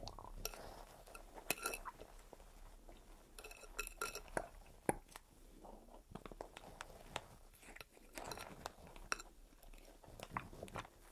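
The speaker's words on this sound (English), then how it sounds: "Need to stir things a little bit." Utensils clink against glass while a potion is stirred in a soft-spoken magic scientist roleplay, with scattered light taps and clinks over a quiet, close background.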